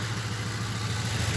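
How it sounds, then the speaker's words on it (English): A 2008 Ford Crown Victoria engine idles close by with a steady low rumble and even hum, held for a short stretch without talk while the idle speed shifts slightly. "Oh, now the idle just changed."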